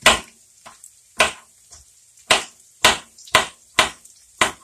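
A knife chops green peppers into pieces on a cutting board: sharp, close taps in an uneven series of about ten, with near silence between strokes.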